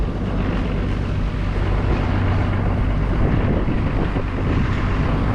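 A pair of fishing boats at sea tow a single shared net, with a steady engine rumble mixed with heavy wind buffeting and wash of water, continuous and close.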